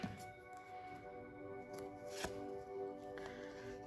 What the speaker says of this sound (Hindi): ओके, लेट्स शफल फर्स्ट, फिर निकालते हैं.